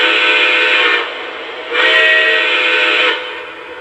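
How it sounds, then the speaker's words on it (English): A Lionel Legacy 4-12-2 three-cylinder model steam locomotive plays its startup sound sequence: two loud, sustained whistle-like blasts, each about a second and a half long, close and alone. "as we go to speed step 1, nothing will actually start moving on the locomotive. However, it will go through a sequence of sounds."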